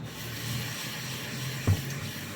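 Soft close rubbing and scrubbing as a saucepan is cleaned and polished in circles, a faint continuous scratchy hiss with one brief louder knock near the end.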